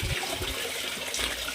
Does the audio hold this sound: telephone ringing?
no